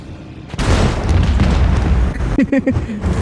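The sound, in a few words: explosion in video game Warhammer 40,000: Rogue Trader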